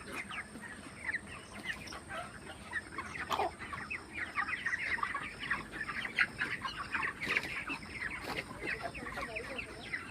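A flock of 32-day-old chickens cluck and chirp steadily, many birds calling over one another at close range, with some faint talking mixed in.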